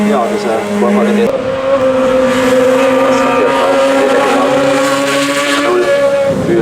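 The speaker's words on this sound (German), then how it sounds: "BMW M3 E30." A BMW M3 E30 race car climbs at the 55th Osnabrück hill climb race, its engine loud and close, rising through the revs and dropping with a gear change, over a constant roar.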